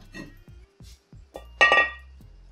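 Removing the old rear brake rotor from a 2003-2005 Dodge Neon SRT4, with a series of short metallic clinks and knocks close by, ending in a sharper, louder metal clank near the end.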